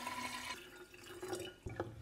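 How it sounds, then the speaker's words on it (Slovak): Water is poured into a large container over chopped lemon balm and honey, a short close splashing pour with a brief fuller burst near the end, no talk. "nalejem si medík, zalejem vodou"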